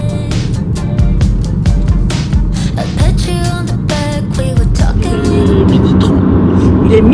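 Car on the road toward a hotel in Canada, with a steady loud engine and road rumble from inside the cabin, intermittent clicks and thumps, and some background voices.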